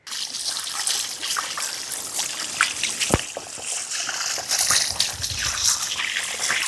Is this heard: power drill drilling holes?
no